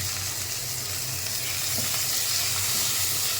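Mango pieces hit hot oil tempered with mustard seeds, giving a loud, even sizzling hiss that swells slightly toward the end, with one soft clink partway through.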